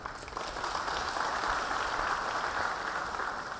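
A crowd at a political party primary event for a provincial governor race claps in steady, dense applause that carries on evenly throughout, heard from some distance.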